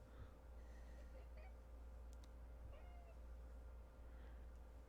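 A cat meows a few times at low level against a steady background hum, with a soft snort or breath between calls and no speech.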